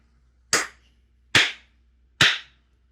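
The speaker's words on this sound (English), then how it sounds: "Clap." Three sharp hand claps, evenly spaced about a second apart, each crisp and close with a quick decay against near silence.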